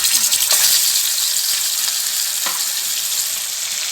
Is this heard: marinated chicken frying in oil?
yes